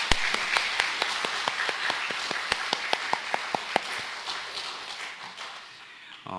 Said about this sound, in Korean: 우리 다시 한번 우리 하나님께 영광의 박수 올려드리겠습니다.